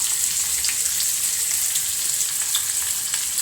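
Shallots sizzle and crackle steadily in hot oil after mustard seeds have popped, a close, continuous frying hiss with small pops scattered through it.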